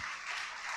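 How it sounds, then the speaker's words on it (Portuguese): Congregation clapping in a church service, a dense, steady wash of applause filling the space without a break, heard alone at moderate level. "Dê um aplauso a Jesus."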